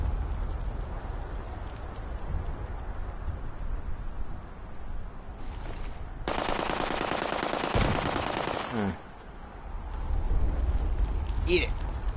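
Rapid automatic gunfire in Fallout 76, a burst of about two and a half seconds standing out from quieter background game ambience, followed by a short sharp sound.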